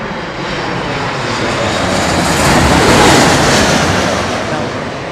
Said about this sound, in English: there is the Finnair 350 special livery inbound